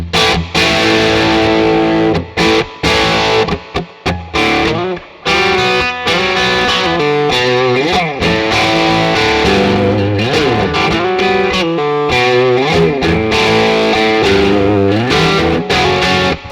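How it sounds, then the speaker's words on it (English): Heavily distorted electric guitar through a boost pedal plays loud sustained chords and bending riffs, with brief pauses between phrases. "the boost can really put you into heavy levels of distortion"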